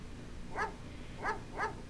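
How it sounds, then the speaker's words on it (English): A Doberman in the Phantasmagoria video game gives three short, evenly spaced barks, fairly faint and close, over a low background hum. "Oh, it's a Doberman!"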